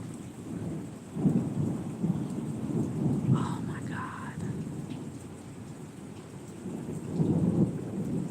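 A thunderstorm with steady rain, low rolling thunder rumbling through repeatedly, building and fading, loud and fairly close under continuous rainfall.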